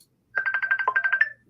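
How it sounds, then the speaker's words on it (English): Phone ringtone rings once indoors as a loud, clear burst of about ten rapid electronic tones lasting about a second, alone with no talk over it. "Sounds like somebody's phone's ringing."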